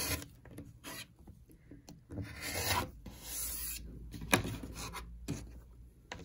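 A rotary cutter slicing a fabric quilt block along a ruler, with soft rasping strokes close by, quiet and intermittent, a few louder passes standing out.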